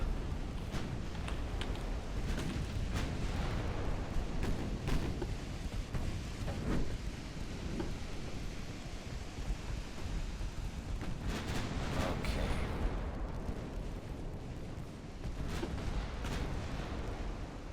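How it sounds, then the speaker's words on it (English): Naval artillery fire and shell hits in the warship game Ultimate Admiral: Dreadnoughts, a dense continuous rumble of distant gunfire and booms, with repeated sharper cracks rising over the battle noise. "our heavy cruiser took a massive hit from enemy battleship"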